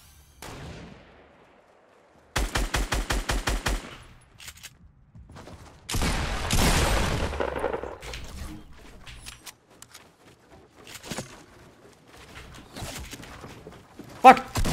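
Gunfire in the Fortnite video game: a rapid burst of automatic shots, then a long loud blast and scattered single shots, with a player talking between them.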